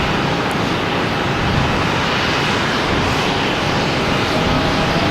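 A Lufthansa airliner taxis at Boston Logan Airport, its engines giving a loud, steady, broadband roar that holds evenly throughout with no voices over it.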